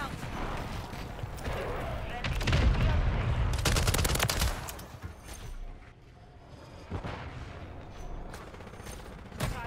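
Bursts of rapid automatic fire from a Raal MG machine gun in Modern Warfare 3, loud and close at first, then sparser shots and game effects, with a player talking over the action.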